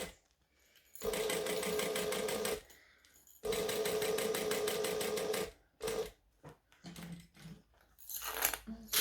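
A sewing machine stitches a wristlet in two long, rapid runs of needle chatter with a pause between, followed by shorter stop-start bursts and small handling clicks, close and clear.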